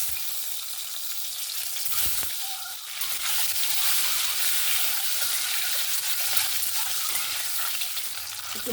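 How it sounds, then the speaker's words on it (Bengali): Eggs fry in hot white oil in a kadai with a loud, dense, continuous sizzle that swells after the first few seconds and crackles close-up, with no talking. "এবার ডিমগুলোকে ভেজে নেব।"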